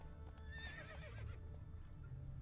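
Roach the horse in Witcher 3 gives a wavering whinny with rising and falling tonal calls, set over a steady low rumble of game ambience and hoofbeats.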